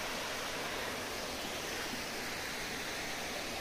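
The steady, dense roar of a waterfall amid nature in Rayagada, a broad unbroken rush of falling water that holds constant throughout with no voices.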